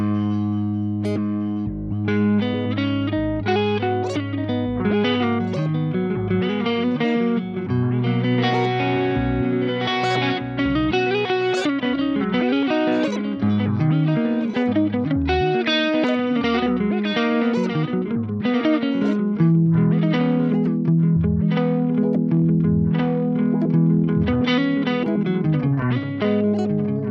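An ambient delay effect on guitar, with a square wave LFO snapping the motor speed between two values, produces a dense, continuous wash of repeating notes and echoes that stays steady and loud throughout.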